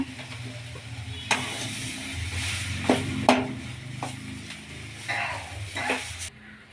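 A spoon stirs soya keema in a frying pan, giving scraping strokes and clinks against the metal over a steady sizzle. The sound is close and moderately loud, with no talk.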